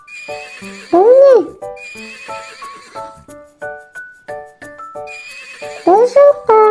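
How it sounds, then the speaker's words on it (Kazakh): A horse gives two loud, close whinnies, one near the start and one near the end, with hoof clip-clops and a tonal musical backing in between. "Бұл жылқы."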